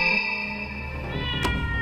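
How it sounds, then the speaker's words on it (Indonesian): A cat meows once in a long, drawn-out tonal cry that stays loud and close throughout, ending with a brief click. "Mendengar suara kucing mengeong"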